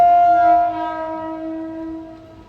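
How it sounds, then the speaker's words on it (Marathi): A train horn blasts close and loud with sustained harmonic tones, then fades and tapers off over a couple of seconds. "थांबवली ट्रेन"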